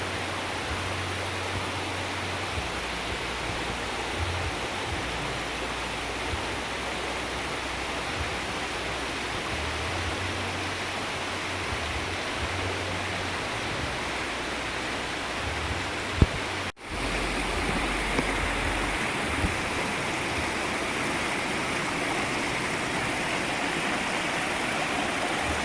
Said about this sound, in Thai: เป็นน้ำตกที่ใสมากนะครับ ที่สวยงามนะครับ